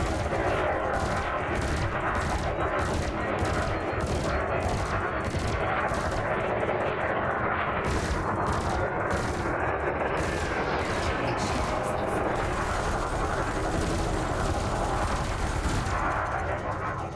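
Rapid, unbroken weapons fire from an enemy ship shooting back during space combat practice in Elite: Dangerous, a fast stuttering chatter of shots over a loud, constant roar, with a voice occasionally heard underneath.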